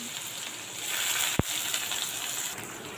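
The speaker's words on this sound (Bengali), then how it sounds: "পেঁয়াজ ছিটে আসছে পুরো একদম" Onions spattering in hot oil with fried cumin seeds in a pan, a continuous close sizzle broken by one sharp pop or clink midway, no voices.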